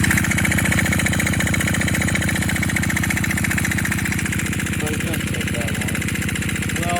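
A 79cc small petrol engine runs steadily with the throttle held wide open, giving a loud, even, rapid buzzing drone throughout, with brief talking over it near the end.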